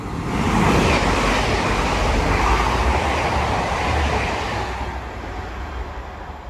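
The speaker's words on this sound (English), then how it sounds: "Train now zooming past" A train, a class 185 headed for Manchester Airport, roars through Rainhill station at speed, a loud, steady rush and rumble that fades slightly toward the end.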